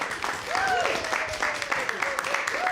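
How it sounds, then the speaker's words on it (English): A studio audience at a community radio recording claps steadily for a few seconds, moderately loud and close, with a voice carrying over the applause. "a big round of applause for our studio audience here"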